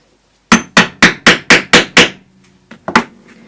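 Seven loud, evenly spaced hammer blows drive a chunky metal rivet into place in a workshop, followed after a short pause by a few quieter, irregular taps.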